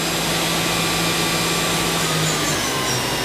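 A 2023 Haas VF-5SS CNC machining center with its spindle running, giving a steady, loud, broadband whir with a faint low hum that holds evenly throughout, with no talking.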